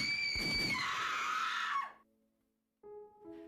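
A loud, high-pitched scream rises and then cuts off abruptly, followed by a brief silence and a short, quieter cry, amid clanging and gunshots.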